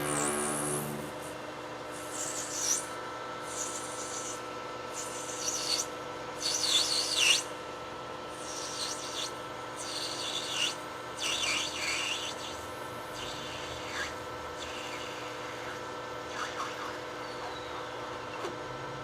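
A metal lathe parts off a compressor fitting for an air dryer, giving quiet, repeated rasping and scraping bursts of cutting noise over a steady machine hum, with no talk.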